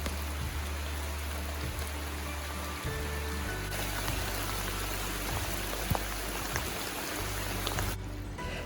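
Steady rain patters on surfaces aboard a sailing boat along England's southwest coast, a dense continuous hiss with scattered nearby drips, alone and fairly loud throughout.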